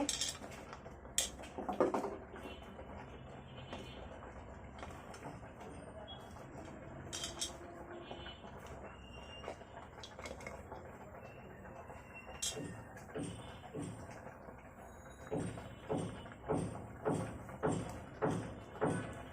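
Chopped olives go into a pot for a sweet, sour and spicy olive pickle, with clinks and soft thuds, then a steady run of rhythmic scraping strokes as everything is mixed.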